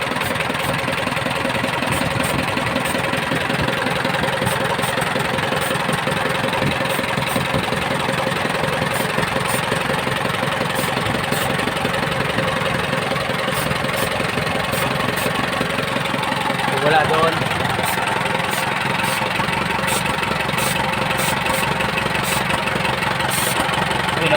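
An Isuzu 4BC2 diesel engine idles steadily up close with an even, throbbing rumble, the running changing slightly partway through while someone talks over it.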